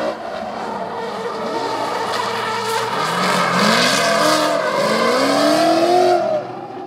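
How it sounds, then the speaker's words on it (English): An engine is clutch-kicked at high RPM during pre-season drift testing, revving hard with rising pitch sweeps and tire noise, loud and fairly close, with no talking. "it sounds like he's clutch kicking in at high RPM"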